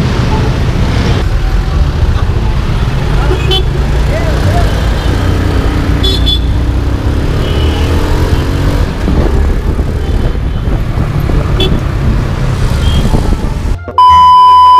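Continuous road traffic heard from a motorcycle on a night ride toward Antipolo, with a steady engine and wind roar, a few faint beeps and horns, and some talk.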